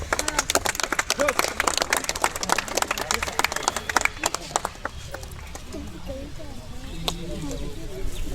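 A crowd at a company celebration in Kadapa, where a Mahindra Thar is handed over, claps in sharp, dense bursts over someone talking; the clapping thins out partway through as speech takes over.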